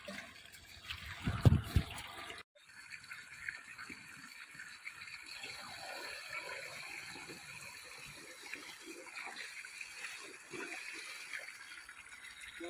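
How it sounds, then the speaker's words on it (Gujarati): A strong gush of water rushes into a drinking-water jug, then settles into a steady flowing fill that continues for several seconds. "આપણે તો પાણીની ગેગલ લીધી છે પાણી ભરવાનું છે પીવા માટે"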